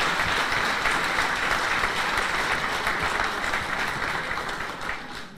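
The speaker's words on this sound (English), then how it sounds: "Please give her a round of applause." Guests at a luncheon with diaspora organisations applaud Ambassador Alexandra Papadopoulou, dense, loud clapping that holds steady and then begins to thin and fade toward the end.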